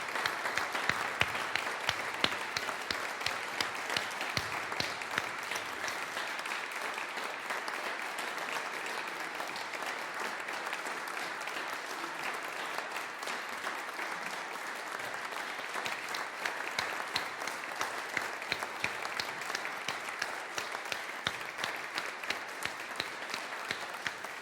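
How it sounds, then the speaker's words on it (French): Parishioners at a musical church service applaud the musicians with sustained, even clapping, a steady dense wash lasting the whole stretch at moderate level with no talk. "remercier, exprimer notre reconnaissance, applaudir les musiciens"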